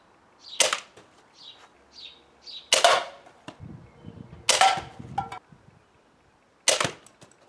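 A homemade slingshot SMG fires at an apple, giving four sharp snapping shots spaced a second or two apart, each with a brief rattle and thud, with faint clicks between them in a quiet setting.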